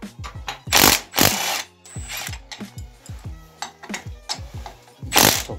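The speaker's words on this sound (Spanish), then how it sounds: "Ahora retiro los tornillos." A hand ratchet clicks rapidly in short bursts while bolts are removed from an Italika ATV150 quad bike engine, close-up metallic ratcheting with a few louder scraping clunks of parts between runs, no talk.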